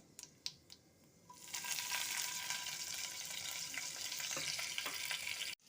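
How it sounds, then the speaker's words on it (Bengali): A few clicks, then a sudden loud sizzle as nigella seeds and slit green chillies hit hot oil, crackling and hissing steadily. "আমি প্রথমে কালো জিরা ফোড়ন দিচ্ছি, দেব চেরা কাঁচা লঙ্কা"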